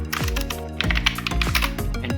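Rapid keystrokes on a computer keyboard while installing apps with WinGet on Windows 10, a steady run of close, crisp clicks over a low tonal background hum.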